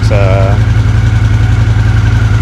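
A Honda CX500 motorcycle engine runs at a steady, loud idle with a deep, even throb, close up, with a brief voice at the start.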